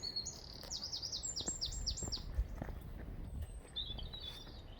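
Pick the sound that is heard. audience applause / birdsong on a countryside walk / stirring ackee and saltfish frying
birdsong on a countryside walk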